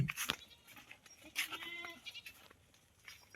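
A few bleats from young goat kids, one sharp and close near the start and another wavering call in the middle, over quiet outdoor background.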